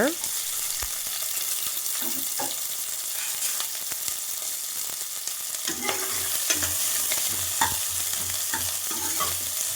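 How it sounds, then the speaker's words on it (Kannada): Chopped onions fry and get stirred in hot oil, a steady crackling sizzle running throughout with scraping stir strokes and occasional utensil clinks, close and fairly loud, with no talking. "ಈರುಳ್ಳಿನ ಸ್ವಲ್ಪ ಚೆನ್ನಾಗಿ ಹುರ್ಕೊಳ್ಳೋಣ."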